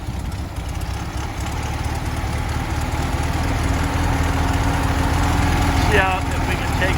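A Volkswagen engine idles on a restored 1931 Schebler DLX76 carburetor with a steady, close mechanical chug and even pulsing, with a brief higher squeak near the end.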